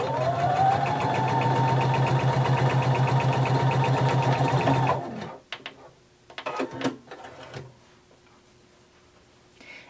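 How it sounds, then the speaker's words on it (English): A sewing machine closes a 5/8 inch seam on a romper or dress band, right sides facing, with a steady, close whir and fine ticking for about five seconds, then it stops and soft handling clicks and rustles follow. "we're going to close it by stitching 5/8 of an inch seam allowance"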